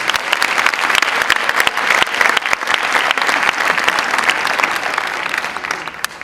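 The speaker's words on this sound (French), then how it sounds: "nous on prend tous les applaudissements, vous pouvez y aller." Loud, dense applause from a large audience at an evening conference on living together, sustained clapping filling the room without pause for several seconds, no voices over it.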